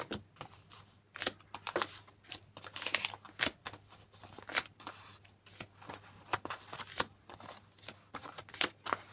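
Plastic packets of craft supplies for decorating leaves are unpacked up close, giving a busy run of crinkling, rustling and crackling bursts with short pauses and no talk.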